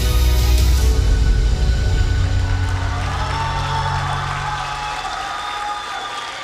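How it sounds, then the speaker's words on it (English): An audience at the Western Cape Prestige Agri Awards gala ceremony applauds, dense clapping that starts loud with a low boom and gradually fades over several seconds. "let's give him a round of applause once again"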